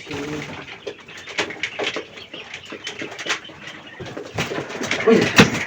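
Pet quail kept on a rooftop call repeatedly, with soft cooing and chirping notes, close and fairly loud, with a few brief flutters and background rustling.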